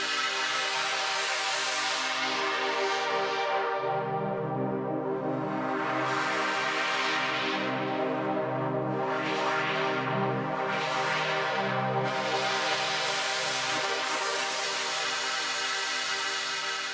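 A sustained wavetable synthesizer pad with added shimmer reverb, rich harmonic layers and a long reverb tail, shimmering high tones swelling and fading over a steady drone.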